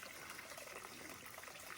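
A small trickling waterfall at a trail water source along the Pacific Crest Trail gives a steady, close wash of splashing water that runs unbroken throughout.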